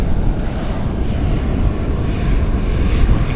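A Boeing airliner at Vancouver International Airport (YVR) gives off a loud, steady jet engine roar with broad rumbling noise, unbroken throughout and without speech.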